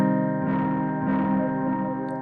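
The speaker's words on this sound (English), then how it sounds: "if I wanted to add some extra reverb" A sustained synth tone from SynthMaster 3 Player on iPad, washed in added reverb, swells in a few soft pulses and holds steadily without any voice.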